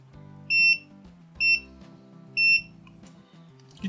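Three short, sharp electronic beeps from an ANENG 622B multimeter continuity test sound at a regular pace, each clear and close, separated by quieter hum and handling noise.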